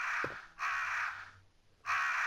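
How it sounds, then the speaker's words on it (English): Crows in the video game Resident Evil Director's Cut give three harsh, drawn-out caws, loud and near, separated by short pauses. "the crows will trigger and attack you."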